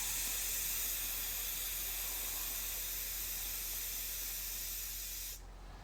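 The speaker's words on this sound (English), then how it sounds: "you can smell that new rubber air coming out." Air hisses steadily out of a new e-bike tire through the valve, a loud continuous close-up spray that holds for several seconds, then suddenly drops away.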